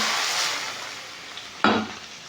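Hot cumin and chili tempering poured into a pot of masoor lentils lands with a sudden loud sizzle that bursts out after quieter frying and stirring, then settles into a steady crackle.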